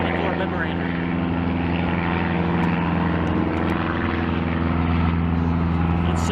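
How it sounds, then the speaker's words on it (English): Boeing B-29 Superfortress bomber engines, a steady, loud propeller drone with deep rumbling layers throughout, while people talk nearby. "and now the B-29 Super Fortress"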